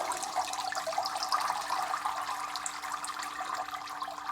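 Water streams and splashes continuously as a strainer of soaked chive blossoms is lifted out of a bowl, a close, steady pouring and trickling wash with no voices.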